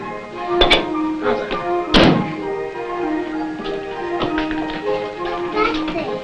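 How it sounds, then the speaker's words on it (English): A sign is put up with a few sharp wooden taps and thunks, two louder knocks early on followed by lighter knocks, heard indoors under a steady hum and mixed with voices talking. "Can you help me put this sign up?"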